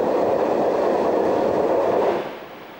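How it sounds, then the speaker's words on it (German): DB class 144 electric locomotive passing on rails north of Steinbach am Wald, a loud steady rumble and roll of the train close by that holds for about two seconds, then drops away quickly as it recedes. "Nördlich von Steinbach am Wald eine Begegnung mit einer Lok der Baureihe 144."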